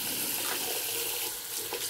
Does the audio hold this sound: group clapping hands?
no